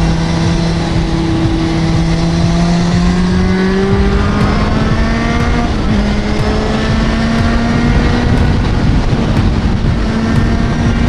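A Kawasaki motorcycle rides through city streets, its engine a loud, steady drone with gradually rising pitch as it accelerates through gears, continuous and close with no talking.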